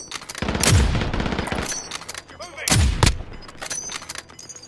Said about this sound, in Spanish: Yo tengo la grau, les disparo con la grau.